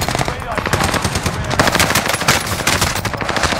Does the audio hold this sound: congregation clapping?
no